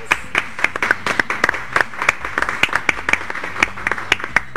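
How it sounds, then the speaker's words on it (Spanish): Studio audience claps for guests on a talk show about vinyl records, a steady patter of distinct sharp hand claps from a modest group, close and fairly loud throughout. "Bienvenidos, un aplauso para ustedes."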